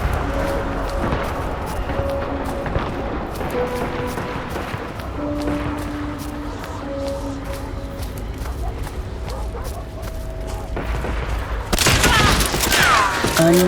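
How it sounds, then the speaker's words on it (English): Gunfire from the game Hunt: Showdown crackles in sporadic bursts over a dense, rumbling ambient bed, with a louder, brighter volley breaking out near the end. "Another burst of gunfire spurred me on."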